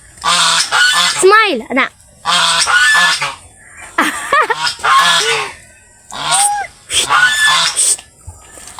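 Geese on a farm honking loudly and repeatedly in close, raucous bursts, several calls overlapping with short pauses between, while a person speaks briefly.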